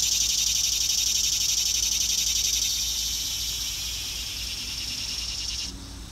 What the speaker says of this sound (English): Sorry about the cicadas. There's a lot of them around here.